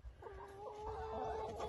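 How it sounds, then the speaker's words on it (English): About twenty layer hens cluck and murmur together inside a coop, a steady close chorus of overlapping calls with one clearer rising cackle, no talking. "Layer hens. Got about 20 chickens in here. They're all inside there making noise."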